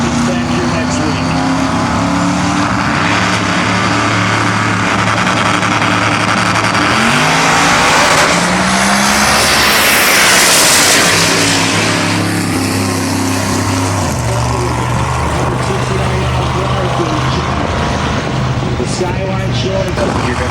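Pro Mod XDR heads-up eighth-mile drag cars roar off the line at a World Series event, a sustained loud engine blast with a rising pitch sweep midway and tire noise, a commentator talking over it throughout.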